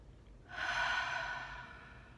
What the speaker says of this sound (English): Just some nice deep belly breaths.